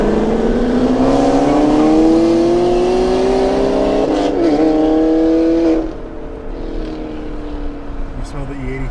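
Cars accelerate hard alongside a Rolls Royce Ghost, engines running on E85 with loud exhaust, a rising revving roar that climbs in pitch for several seconds, then drops off abruptly into quieter road noise.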